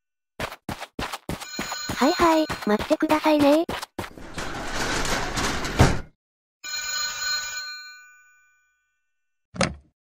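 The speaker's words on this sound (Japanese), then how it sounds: "あら、電話。" A telephone rings in a run of rapid, bright bell pulses with ringing tones, then stops. A voice speaks briefly, and a short ding sounds near the end.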